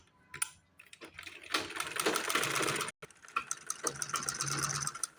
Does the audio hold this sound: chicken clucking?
no